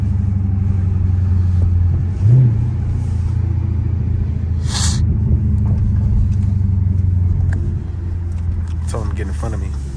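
Mopar cars with loud exhaust at night, a steady deep engine rumble throughout with a brief rev swell, heard from inside a car, with people talking over it.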